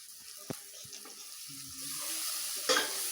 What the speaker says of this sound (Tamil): ரெண்டு சிட்டிக்கு சீரகம் போடுங்க